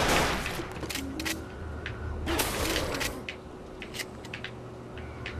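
Chrome shotgun fire in the video game Left 4 Dead 2, several sharp blasts spaced irregularly over a few seconds against a busy game background.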